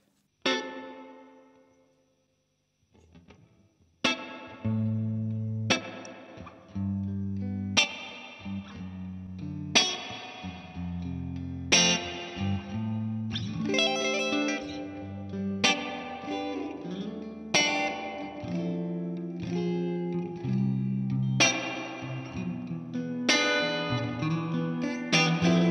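Electric guitar played through a Walrus Audio Fundamental spring reverb pedal into an amp with its own reverb off, strummed chords and notes ringing out with a splashy spring tail, starting after a short near-silent pause.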